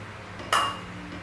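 A heavy, thick Japanese cooking pot is set down or knocked, giving a single sharp metallic clink close by against a quiet room background.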